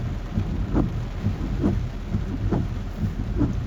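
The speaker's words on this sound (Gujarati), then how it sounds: "વરસાદ છે તો આવી કેમ નથી?" Rain falls during a thunderstorm, heard as a low rumbling bed with a series of soft, dull thumps recurring roughly every second, close and muffled, with no speech.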